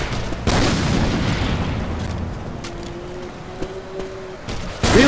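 Muffled gunfire and booming blasts fill a Left 4 Dead 2 zombie fight, with a dense burst near the start and a loud blast at the end. A steady game drone runs underneath.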